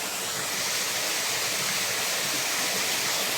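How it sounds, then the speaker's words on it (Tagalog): Strong water pouring at a waterfall, a loud, dense, continuous roar of rushing flow with no breaks, heard up close with no voices. "Lakas ng tubig oh."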